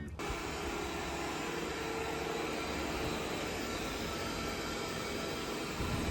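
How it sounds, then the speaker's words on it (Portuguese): KaBum Smart 700 robot vacuum cleaner running in suction mode, a steady broadband whooshing hum with a thin high whine, starting abruptly and holding constant throughout. "Esse é o barulho do aspirador quando ele está no modo de sucção."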